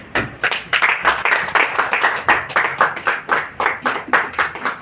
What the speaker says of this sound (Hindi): ये तालियों की कंजूसी नहीं करें